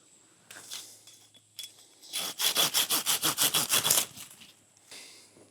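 A Silky Zubat hand saw cuts through an oak limb in about a dozen quick, even rasping strokes, close and crisp, with a few scrapes before and after the sawing.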